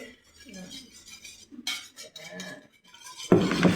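Cutlery clinks and scrapes against a bowl while beating an egg, with light, irregular taps and a louder rattling burst at the end, as someone talks.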